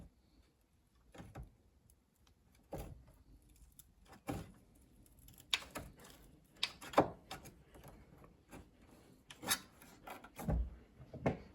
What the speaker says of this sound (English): get the screwdriver right underneath the rivet and just very carefully prise it out